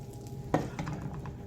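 Salmon with parsley tossed in a hot pan, a soft steady sizzle with one sharper clatter of the toss, quiet and close.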